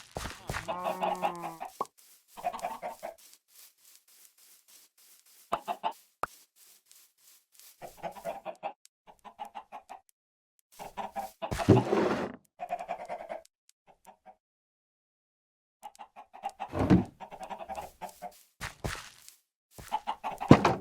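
Minecraft chickens clucking in short scattered bursts, close and clear, separated by stretches of silence.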